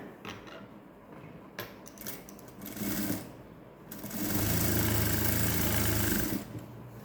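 A sewing machine stitches a cup dart on a 48-inch blouse, starting in short stop-start runs and then settling into one steady, loud, droning burst of about two seconds before stopping.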